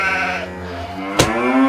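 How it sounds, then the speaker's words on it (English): A sheep bleats close by in a long, wavering, tremulous call, cut midway by a brief sharp burst of noise, with no talking. "The cows are biting the sheep."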